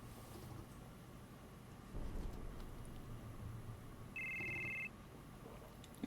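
A telephone rings once in a Final Fantasy VII game, a short electronic tone sounding alone over a quiet low rumble of game ambience.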